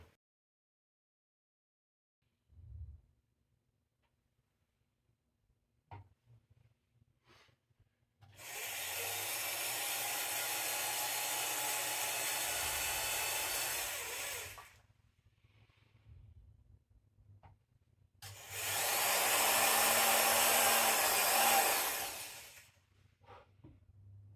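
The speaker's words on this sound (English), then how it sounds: "now I get to do some drilling." Two sustained stretches of loud drilling into a car speaker mounting, each several seconds long, separated by quiet pauses with faint handling noises.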